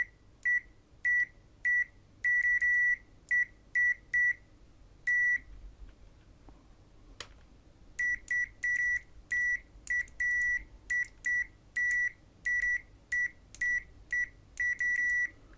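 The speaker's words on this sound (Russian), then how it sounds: "Так, прозвонка. Скорость реакции, как быстро начинает пищать." An AN870 multimeter in continuity test mode gives short, sharp beeps, first in a rapid irregular series, then a pause, then many more quick beeps, loud and close in a quiet room.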